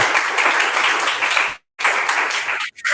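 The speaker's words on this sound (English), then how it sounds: "please give us a warm round of applause" An audience gives a warm round of applause at an Irish Tech Challenge 2025 information session, loud dense clapping that fills the room, cutting briefly to silence midway before resuming.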